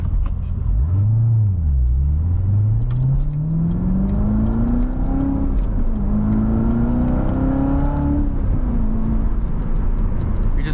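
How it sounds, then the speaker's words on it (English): A Chevrolet Corvette C7 Z06 accelerating on the road, a loud, close engine note that climbs steadily in pitch through the gears, with one brief dip partway through, heard alone without talk. "Look, you already pick up the speed 60 miles an hour without even full throttle."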